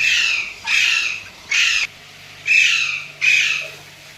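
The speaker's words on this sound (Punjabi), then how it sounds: "ਮਿੱਠੂ ਜਿੰਨਾ ਮਰਜ਼ੀ ਰੌਲਾ ਪਾ ਲਓ" A pet parrot squawking loudly and close by: five harsh, grating squawks in an uneven rhythm, each about half a second long, separated by short quiet gaps.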